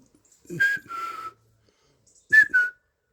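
A person whistles two short phrases, each a pair of bright notes, separated by a pause of silence.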